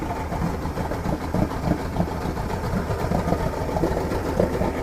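A Mercury 150hp XR6 Black Max outboard engine idling, a steady throaty low rumble with a slightly uneven lope, close and moderately loud, running alone without voices.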